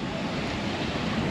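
Ocean surf at Pensacola Beach, Florida, a steady broadband wash of breaking waves mixed with wind buffeting the microphone, loud and close with no pauses.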